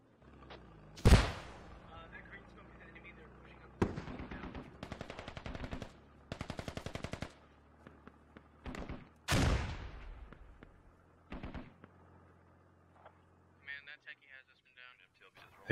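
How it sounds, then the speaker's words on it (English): A rocket fired into a building across the street in the tactical shooter Squad: loud sharp blasts and bursts of machine-gun fire, with a heavy explosion near the middle, in a busy combat soundscape. "shooting a rocket into the building across the street"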